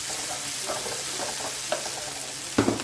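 Tomatoes, capsicum and carrot frying in a pan give a steady soft sizzle with faint stirring scrapes and a louder clatter near the end, close up and without talk.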